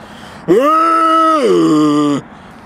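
A person vocally imitates a chupacabra's territorial call: a single sustained, nasal wailing tone lasting under two seconds, dropping in pitch midway.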